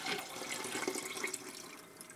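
Liquor is poured from a cup into a measuring cup, a short close splashing trickle with faint gurgles that tapers off toward the end.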